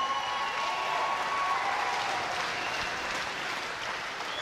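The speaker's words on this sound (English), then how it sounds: "can we please have a round of applause to these two fighters?" An audience at a combat-sports fight event applauds steadily, a dense wash of clapping that holds at an even level throughout.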